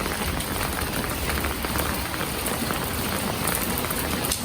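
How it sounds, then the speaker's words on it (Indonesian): Light rain falling around an outdoor street in Indonesia, a dense, even patter of drops on surfaces and an umbrella, steady and close with no break. "Ini tuh hujannya nggak deres-deres banget"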